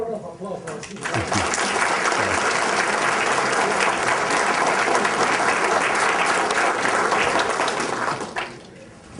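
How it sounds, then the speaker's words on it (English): A seated audience bursts into sustained applause for a guest speaker at a speaker series, dense clapping holding steady for about seven seconds before quickly dying away. "how about a round of applause for our speaker?"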